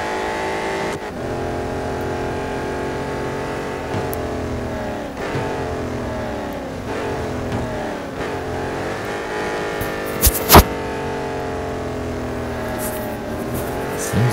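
Race car engines roar in the mobile racing game Real Racing 3, rising and falling through gear shifts over a steady drone, with a sharp crash or impact burst near the end.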